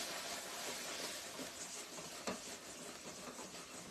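Bacon pecan brittle mixture with butter and baking soda being stirred in a hot pot, a soft continuous sizzle and hiss with faint scraping of the spoon, close and quiet.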